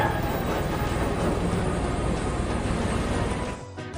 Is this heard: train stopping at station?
yes